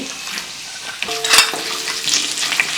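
Fennel and cumin seeds hit hot oil for a Tamil breadfruit masala, giving a steady, close crackling sizzle with a few light utensil clinks and stirring scrapes along the way.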